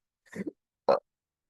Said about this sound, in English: You can't just burp and like that.